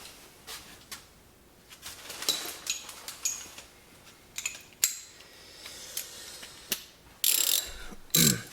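A ratchet wrench with an extension clicks in uneven bursts while removing a part from a Honda Civic Type R during a cone filter install, with loud, close metallic ratcheting and occasional clanks.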